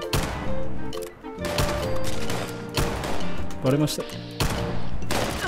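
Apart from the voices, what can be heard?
revolver gunshots in the video game Fallout 76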